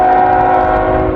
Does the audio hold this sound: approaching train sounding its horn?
yes